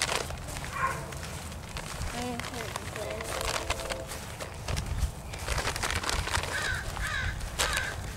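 Crows cawing at a park while peanuts are tossed to them, several calls scattered over steady outdoor background, with people talking throughout.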